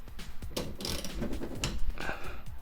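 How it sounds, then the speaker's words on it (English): Ratchet wrench loosening a 10mm nut on a Lexus Toyota windshield wiper arm, a quick run of close mechanical clicks and metallic rattles. "Then go ahead and take that 10mm off, take the whole arm off"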